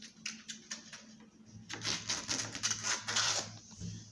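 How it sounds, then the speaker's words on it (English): Sewing scissors snip through folded fabric nearby, a short series of quiet crisp cuts followed by a denser run of rustling snips. "now I'm going to cut open this end. And then cut this open too."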